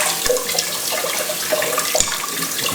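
Cold tap water runs steadily over cooked pasta shells in a kitchen sink, a continuous close splashing rinse with a few sharper spatters, no talking.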